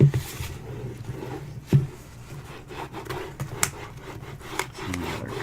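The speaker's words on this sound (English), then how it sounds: "I'm pushing on the lid, okay, so that I can burnish this well" A lid is burnished by hand, firm rubbing strokes scraping and squeaking in irregular bursts, close and moderately loud, with no voices.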